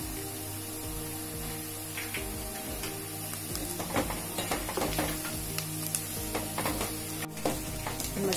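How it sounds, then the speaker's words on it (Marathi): Masala roasts in a pan with kasuri methi and amchur powder, a soft sizzle broken by intermittent stirring scrapes and taps over a low steady hum, fairly quiet with no speech. "मसाला छान भाजून घेतला।"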